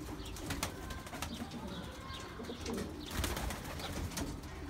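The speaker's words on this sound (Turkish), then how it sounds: "Şöyle bir taklacı güvercini çıkarsana Faruk." Tumbler pigeons cooing inside a coop, soft repeated low coos mixed with light wing flutters and rustling, close by and fairly quiet, with no talking.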